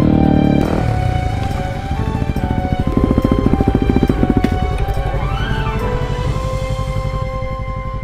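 A motorcycle engine idles and rumbles close by in a steady low throb as a rider pulls the bike up, with mechanical ticking and a brief rising tone midway.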